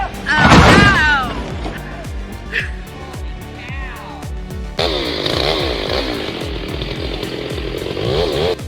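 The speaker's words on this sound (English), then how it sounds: "Two sawyers armed with massive chainsaws carve with surgeon-like precision." Two large chainsaws cutting a ten-foot Douglas fir in Washington, loud engine whine with rising and falling revs, then a steady high cutting roar, heard under a narrator's voice.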